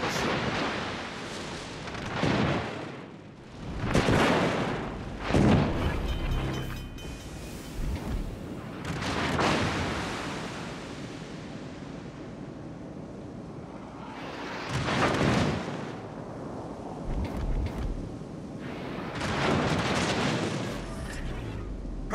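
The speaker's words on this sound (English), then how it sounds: "Concentrate fire on the enemy warship." Naval artillery fires on the Bismarck warship in a video game, with heavy booming blasts at irregular intervals and a rumbling background between them.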